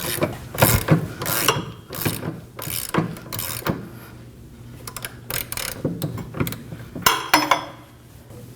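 A ratchet with a 19mm socket tightens a rear upper control arm bolt on a 2011-2016 Kia Optima, giving close, rapid clicking bursts in repeated strokes with short pauses between them.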